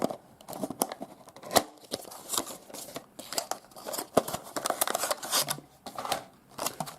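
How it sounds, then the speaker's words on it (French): A packaging box for a wireless USB-C lavalier microphone being opened close up, with continuous crinkling, tearing and scraping of cardboard and plastic and a few sharper snaps. "On va ouvrir le boîtier."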